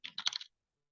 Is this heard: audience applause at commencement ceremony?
no